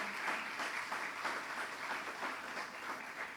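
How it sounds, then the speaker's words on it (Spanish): A church congregation at a Sunday service applauds in praise, steady dense clapping filling the room throughout without a break. "Dale ese aplauso al Señor."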